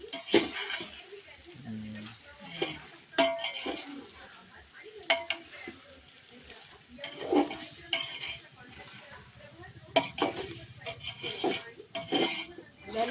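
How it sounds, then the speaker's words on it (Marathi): Masala being sautéed in a pot over a wood-fired clay stove, heard as irregular metallic scrapes and clinks of a spoon against the pot over a faint sizzle, with people talking in between. "मसाला टाकून झालं की परतायचं"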